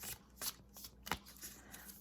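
Tarot cards being shuffled close by in a quiet room, a steady run of soft riffling and slapping bursts with one sharper flutter midway, no talking.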